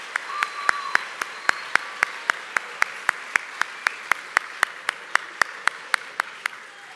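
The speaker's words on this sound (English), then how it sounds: "Let's give all of them a round of applause." Clapping for youth award winners at an awards ceremony comes as a fast, even run of sharp claps, close and moderately quiet, about three per second.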